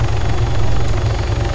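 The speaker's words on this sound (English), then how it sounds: "we're back with this helicopter" A helicopter in the military game Arma 3 (Altis Life mode) flies with a steady, loud, close rotor thump and engine drone that holds throughout without pause.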